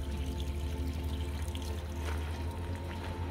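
Steady running water flows continuously from a spring tap at moderate volume, a soft splashing stream with no other sounds.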